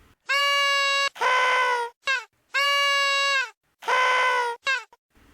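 An audiobook narrator's voice imitates loud snoring, with three drawn-out, rasping snore sounds. Each one has a moaning, goat-like quality and is followed by a shorter snort, and the snores come and go in a steady cycle.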